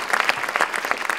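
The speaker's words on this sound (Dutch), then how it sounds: "Graag een applaus nog een keer voor deze fantastische." A brief burst of warm audience applause at the Jacques de Leeuw Prize 2017 award ceremony: many hands clapping together, loud and close, with slight pulsing in intensity.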